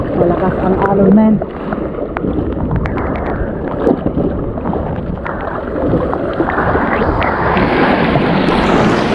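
A small boat rocks on strong ocean waves with water splashing and sloshing against the hull, wind buffeting the microphone, and a voice talking briefly over the choppy surf.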